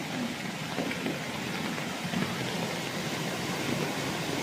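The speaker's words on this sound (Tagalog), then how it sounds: "Malakas pa rin ang ulan dito." Heavy rain pours steadily, a dense constant hiss close by with no pauses, fairly loud throughout.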